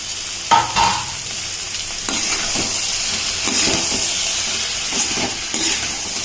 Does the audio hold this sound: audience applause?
no